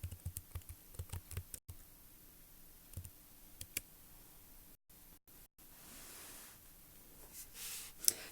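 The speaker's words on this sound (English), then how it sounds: "I'm going to type in the word addition." Computer keyboard tapped to enter a search word on the Scratch website, with a quick cluster of faint clicks at first and a few scattered keystrokes later over a soft background hiss.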